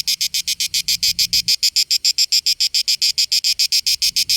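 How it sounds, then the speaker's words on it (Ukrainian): Cicadas at Tomar castle in Portugal shrill loudly in a fast, steady pulsing buzz, about five bursts a second, close and continuous, with a low rumble under the first part and again at the end. "чути стрекотання цикад. Вони репетують, як навіженні."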